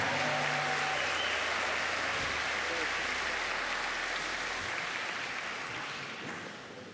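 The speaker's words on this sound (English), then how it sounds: "How about a big round of applause for our Hawaiian ensemble students, yeah?" Audience applause for a group of Hawaiian ensemble students at a live Hawaiian music event, a dense, steady wash of clapping that holds strong before thinning out near the end, with a faint low hum in the background.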